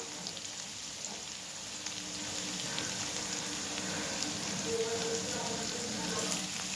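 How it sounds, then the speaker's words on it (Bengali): Prawns sizzle steadily in a pan as garlic paste goes in, a soft continuous frying crackle that grows slightly louder partway through, with light stirring. "চিংড়ি মাছটা একটু ভাজা হয়ে গেছে। এবার এর মধ্যে দেব রসুন বাটা,"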